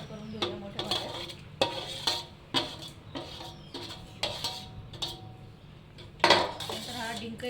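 A large vessel of dry-fruit laddoo mixture with roasted flour being mixed, a spoon or hand repeatedly clinking and scraping against the metal, about a dozen close, uneven knocks over a low steady background.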